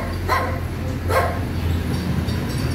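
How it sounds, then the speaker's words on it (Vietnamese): A dog barks at a house in Da Lat, Vietnam, with two distinct barks about a second apart, fairly close over a steady low hum. "Nhà này ngộ lắm, chỗ nào cũng có chó hết trơn."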